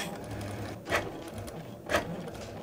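A craft cutting machine drawing and scoring cardstock with a pen tool, giving a steady low mechanical hum with two brief louder bursts of carriage movement about a second apart.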